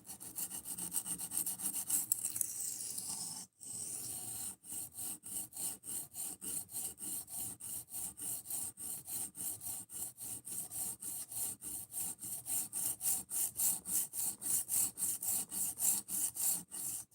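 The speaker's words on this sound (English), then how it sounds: "I'm only sharpening like this to reprofile." A knife with a broken tip being sharpened to reprofile it: a steady run of rhythmic scraping strokes, close and fairly loud, repeating evenly throughout with one brief pause and no talking.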